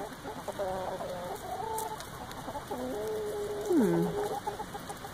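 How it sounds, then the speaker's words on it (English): Chickens cluck and a rooster gives drawn-out calls nearby, several overlapping voices against a quiet outdoor background. "What do you think about our roosters and our chickens?"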